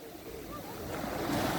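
Waves wash in with a soft, continuous surf rush mixed with wind, swelling slightly toward the end of the brief stretch.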